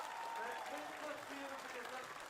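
Spectators at the Dutch national fierljeppen (pole-vaulting over canals) championship applaud the junior champion. Steady, crowd-wide clapping rolls on beneath a commentator talking.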